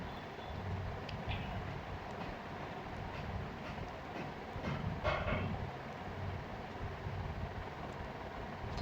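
Sealdah Shatabdi Express passing in a train video game with a WDP4 engine: a steady rumbling rail roar with faint wheel clatter and a brief louder swell near the middle, with no talk.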